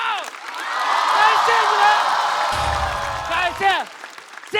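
Audience applause and cheering at a stand-up comedy show, a loud sustained wave of clapping with whoops, while a performer speaks over it.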